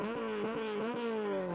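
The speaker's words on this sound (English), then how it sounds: "That noise, bro. Exhaust!" A Kanjo-style Honda Civic's exhaust drones loud and near, a raspy harmonic rumble that pulses in quick repeated surges as the engine revs, with no speech over it.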